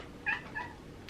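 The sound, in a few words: cat meowing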